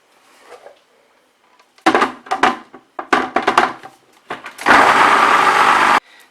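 A blender churns pecans into liquid nut butter in short pulsing bursts, then runs in one loud sustained whir for about a second before cutting out.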